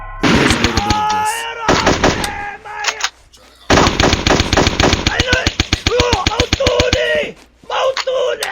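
Automatic weapon fire in the game GenWorld, heard as rapid, sharply spaced bursts of shots in several long volleys separated by short pauses, close and loud, with a voice speaking at points.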